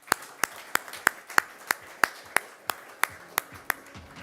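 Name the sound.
applause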